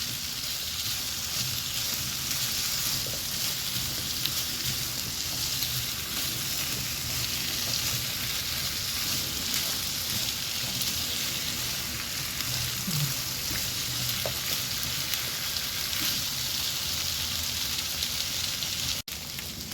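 Onion and zucchini slices fry in a pan with a continuous, even sizzle and crackle, steady and close, broken only by a faint clink or two of stirring.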